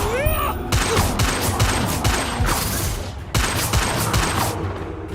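Confringo and Bombarda spell explosions from the Hogwarts Legacy video game go off in quick bursts, a rapid string of sharp booming blasts with brief gaps, close and loud, alone with no talk.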